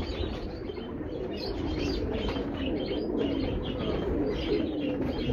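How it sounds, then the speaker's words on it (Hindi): A flock of pigeons coos continuously, several birds overlapping in a low rolling murmur with occasional chirps and a possible wing flutter, steady and fairly close. "माशाल्लाह बहुत ही अच्छे कबूतर।"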